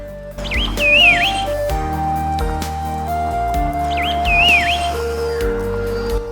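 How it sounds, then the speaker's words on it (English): Black-faced laughing thrushes in East Sikkim give two clear, whistled, warbling calls a few seconds apart, heard over a sustained low musical drone with no speech. "They were black-faced laughing thrushes, a rare and elusive species."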